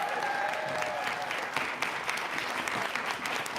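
Audience applause in the Texas House of Representatives at the state capitol, a steady moderate wash of clapping lasting throughout, with a faint high tone early on.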